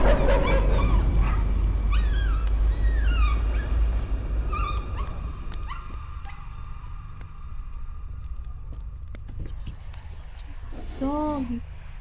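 A dog whimpers and yips in the horror video game Layers of Fear, a few high, thin whines rising over a rumbling, noisy game soundscape with hoof-like clatter, fairly faint and intermittent.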